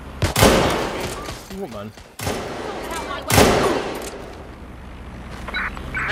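Gunfire in Watch Dogs Legion: two loud, sharp broadband blasts about three seconds apart, each trailing off, with someone talking over the action between them.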